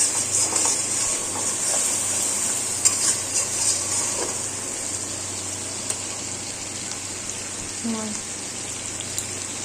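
Masala with a pinch of sugar added for tempering, sizzling steadily in a pan for chicken kosha, with scraping stir strokes and soft utensil knocks throughout, close and moderately loud.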